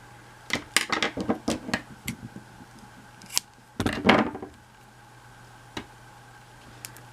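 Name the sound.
scissors cutting yarn fringe for a knitted shawl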